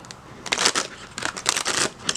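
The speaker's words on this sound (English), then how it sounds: "I'm gonna give it 2 more shuffles" Oracle card deck being shuffled by hand, two short bursts of crisp riffling and card flutter, close and fairly quiet with a small pause between them.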